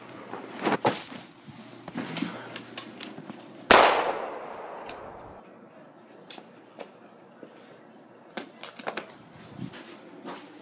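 A single sharp gunshot cracks out near the middle, loud and close, with a brief ringing decay, set among scattered clatter, thumps and movement noise before and after.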